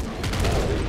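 Bursts of enemy shotgun fire from the top-down shooter Nuclear Throne, a dense crackling volley of blasts over about a second, loud and close with game noise underneath.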